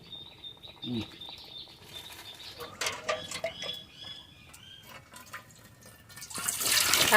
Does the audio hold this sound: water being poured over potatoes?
yes